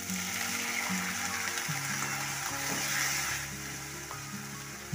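Ginger-garlic masala frying in a pan for muri ghonto, a continuous close sizzle with low clunking stir sounds, easing slightly near the end as water goes in.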